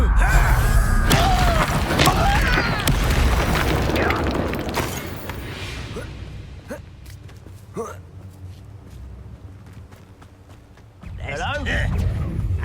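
The Confringo explosive spell goes off in Hogwarts Legacy as loud booming blasts with crackling debris and magical whooshes, a player voice speaking over it, a quieter stretch, then another burst at the end.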